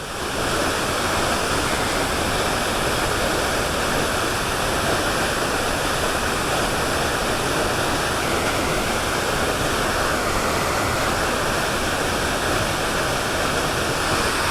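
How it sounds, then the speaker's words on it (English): Waterfall near a creek in a canyon along a hiking trail, a loud, steady, unbroken roar of rushing water close by with no voices. "The falls are just downstream and can be seen by scrambling down the north side of the canyon for about 50 feet."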